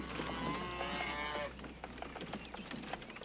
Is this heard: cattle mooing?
yes